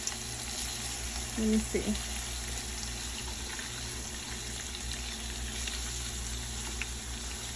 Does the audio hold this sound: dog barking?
no